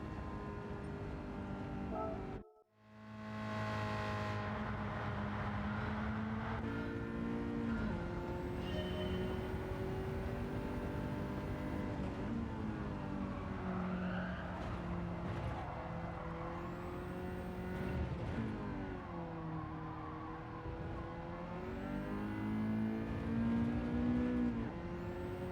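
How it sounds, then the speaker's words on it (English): Race car engine in Gran Turismo 7 held at high revs in second gear, a loud, steady droning whine that rises and falls slightly over a long stretch, with one brief cutout near the start. "Revved it long and hard in second gear that time"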